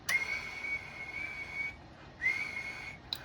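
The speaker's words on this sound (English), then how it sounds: "Like I'll use a whistle as an example." Person whistling a steady high note into an amplifier microphone, two sustained tones with a short gap between, then a brief chirp, clear and close with no talk.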